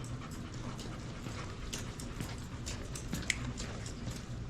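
A police K9 dog sniffs and pants close by, quick rhythmic breathy bursts running steadily throughout with a brief sharper sound near the end.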